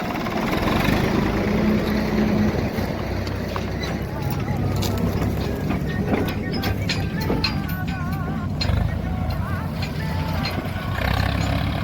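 A steady tractor diesel engine chugs loudly and continuously nearby during a wheat harvest, with people talking over the rumble.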